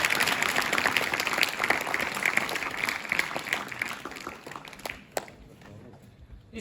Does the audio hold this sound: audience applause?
yes